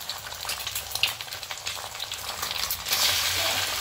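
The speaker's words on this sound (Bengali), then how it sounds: "এবার ডিমটা দিয়ে দেবো। দিয়ে প্রথমে একটু ভুজিয়া করে নেব।" An egg fries in a little hot oil for a vegetable egg chow mein, giving a close, continuous crackling sizzle that grows louder and denser near the end.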